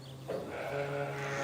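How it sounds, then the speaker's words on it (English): A goat that has just given birth bleats once, a loud, close, wavering cry with a long drawn-out tone, heard alone with no talking. "We've got a goat that's just given birth over here."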